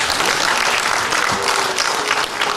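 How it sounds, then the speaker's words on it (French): Audience applause in a conference hall at a colloquium on traditional chieftaincy, honouring women chiefs, a thick even roar of clapping hands held at steady strength for the whole stretch. "Il faut applaudir pour les femmes."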